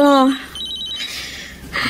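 A cellphone rings with a short melodic ringtone, a few rising electronic tones lasting under two seconds, close and clear in a quiet room.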